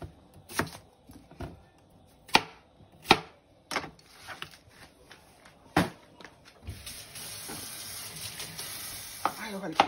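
A knife cuts onion and garlic with a series of sharp, close chops on a board, irregularly spaced, followed by a quieter stretch of soft hiss and occasional taps.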